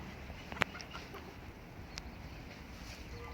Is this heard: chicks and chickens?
yes